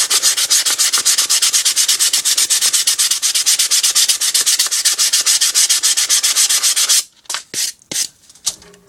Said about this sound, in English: You can sand that out.